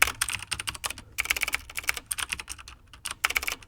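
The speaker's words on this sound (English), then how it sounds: "My typing skills are awful today" Quick, uneven bursts of typing on a computer keyboard, close and fairly quiet, with clusters of keystrokes separated by short pauses and no voices.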